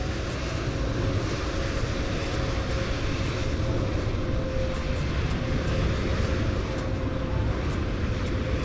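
Emirates SkyCargo Boeing 777F engine in Microsoft Flight Simulator 2020: a constant, loud jet drone with a steady tonal hum, unbroken for the whole stretch.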